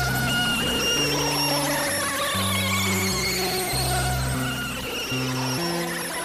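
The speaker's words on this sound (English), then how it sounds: "So what you're hearing is the effect that this gives now." Monsoon pitch shifter effect distorting an incoming signal, producing stepped, warbling tones and shifting high whines layered over a raw signal, steady and fairly loud throughout without any voice.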